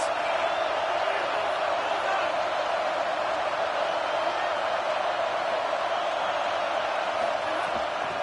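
A video game football stadium crowd on a big third down, a steady dense roar of cheering and noise from many voices that holds evenly throughout.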